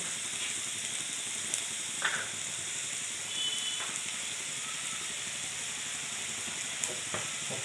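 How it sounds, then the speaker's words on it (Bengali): Spice masala with turmeric sizzles steadily in a pan for a small-fish curry, a continuous quiet frying hiss broken by a few faint stirring scrapes and clicks. "এখন মশলাটা ভালো করে ফ্রাই করে নেব"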